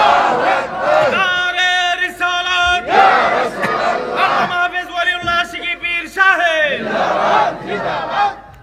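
A large crowd at a Bangla religious sermon gathering roars Allahu Akbar in unison in answer to a takbir call, loud sustained chanted shouts that rise and repeat in waves.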